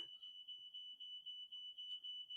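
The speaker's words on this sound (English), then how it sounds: "Can you check the alarm?" A smoke alarm sounds near a kitchen oven, a steady piercing high-pitched tone that holds continuously and fairly loud, pulsing slightly in level, with no talk over it.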